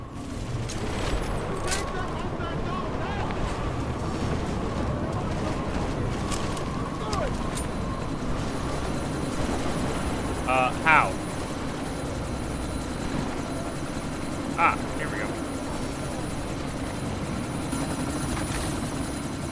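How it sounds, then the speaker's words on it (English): Helicopter in the video game Deus Ex: Mankind Divided, a steady droning rotor hum running throughout amid a sandstorm, with brief mechanical clanks and a few short spoken words over it. "this sandstorm might have just bought us some time, but you need to disable that chopper."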